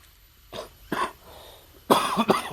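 A few sharp coughs, two small ones followed by a louder, harsher burst, close by with faint background noise.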